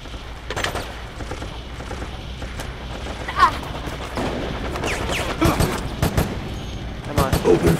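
Scattered bursts of video-game gunfire from Resident Evil: Operation Raccoon City, with sharp shots arriving in irregular clusters beneath ongoing talking and game effects.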